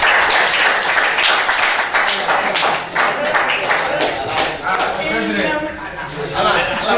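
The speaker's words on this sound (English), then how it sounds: "All right, clap for him." Classroom of students claps for a classmate during a physics lesson on waves, a loud uneven patter of hand claps close by, mixed with chatter and voices throughout.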